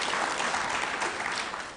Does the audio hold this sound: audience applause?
yes